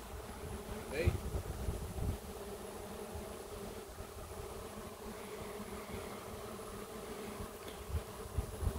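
A swarm of honeybees hums around a popcorn tree in August, a dense, steady buzz from many insects with individual bees zipping past the microphone now and then.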